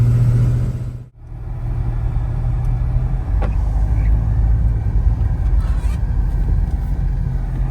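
Ford car pulling away on a road trip, a steady low engine rumble and road noise from inside the cabin after a brief dip, continuous and fairly loud with no voices.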